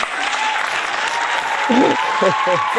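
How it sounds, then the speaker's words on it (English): Audience applause greets a guest introduced on a leadership talk show, a steady wash of clapping filling the room with a few voices calling out near the end. "please put your hands together and welcome Chris Stoikos"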